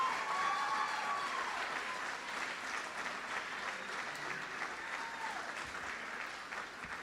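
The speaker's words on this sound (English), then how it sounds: "let's give another big round of applause for our 2017 Hall of Fame inductees" Sustained applause from a large crowd at a college Hall of Fame induction, steady clapping that continues throughout and fades slightly toward the end.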